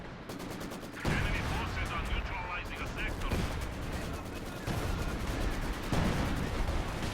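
A howitzer barrage in the strategy game Company of Heroes 2 lands as a series of heavy, booming artillery blasts spaced roughly a second apart over a dense rumbling battle background.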